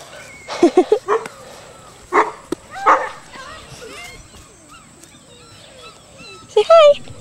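Small puppies, including a fawn and a darker red one, give short yips and soft whimpers in scattered bursts close by, with a person talking to them between the sounds.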